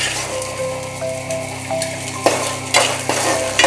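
Ingredients sautéing in a pan for vatha kuzhambu: loud, steady frying sizzle close up, punctuated by a few sharper stirring scrapes and taps of the spatula, with no speech.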